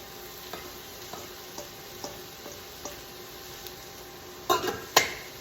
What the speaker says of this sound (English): It's time to add back in the ground pork and the ground beef